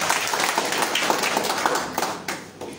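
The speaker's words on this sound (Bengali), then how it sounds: "তার গুরুত্বপূর্ণ বক্তব্যের জন্য সবাইকে সজোরে একটা হাততালি দেওয়ার জন্য" Audience at a meeting of a green environmental movement in Cox's Bazar applauding, dense close clapping that fades off toward the end.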